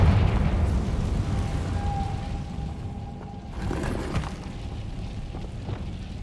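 A Confringo spell explosion in the Hogwarts Legacy video game bursts with a muffled boom midway, over a low rumbling game backdrop and a faint tonal hum.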